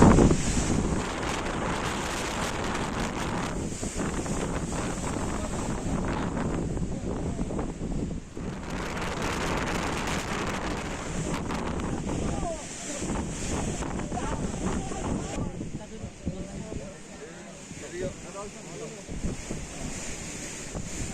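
Strong wind roars across the summit of Mount Gede in West Java, a loud, steady gusting rush that buffets the microphone throughout and eases slightly near the end.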